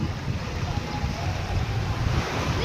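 Sea waves wash steadily at Brizamar Beach Resort in Batangas, a broad surf rush mixed with wind buffeting the microphone.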